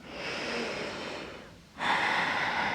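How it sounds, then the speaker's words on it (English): Slow, deep breaths during a yoga stretch: a long airy exhale fades to a brief pause, then a fresh breath begins, close and quiet with no talking. "2 more breaths here"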